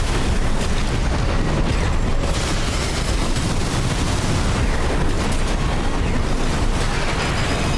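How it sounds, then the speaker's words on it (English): Dense, continuous roar of missile explosions and heavy booming fire in Armored Core VI, loud and unbroken for the whole stretch with no pauses between blasts. "Oh, that's a lot of missiles."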